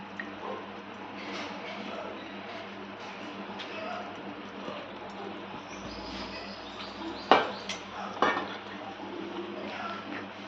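Soaked moong dal and sorrel curry gets stirred in a pot, with soft wet squelching, faint scraping and a couple of sharp metal clinks of a utensil against the rim, close and fairly quiet.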